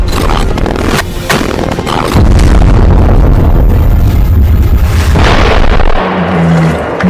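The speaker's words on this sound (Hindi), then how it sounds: "हमास के कई लड़ाके गाजा में इजरायली सेना पर रॉकेट लॉन्चर से हमला करते दिख रहे हैं।" Rocket launcher attack in Gaza: loud, sustained blast rumble that fills most of the clip, with sharp bursts and a heavy low-end roar before it cuts off near the end.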